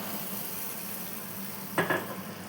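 Spice paste fries in oil left in a pan from frying brinjal, giving a steady low sizzle with a brief clink of a utensil against the pan near the end.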